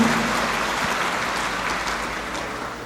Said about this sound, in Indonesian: Tepuk tangan dong untuk keberaniannya.